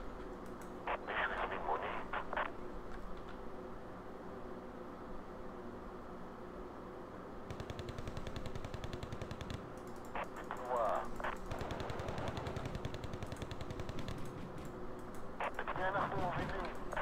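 Rapid bursts of a Gazelle helicopter's automatic cannon rattle in Wargame: Red Dragon, with brief voices and mechanical hums between the volleys.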